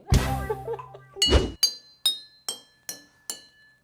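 Drinking glasses are tapped in a quick run of bright, ringing clinks, the first strikes blurred under a voice and a loud burst, then five clear separate tings that each decay, evenly spaced.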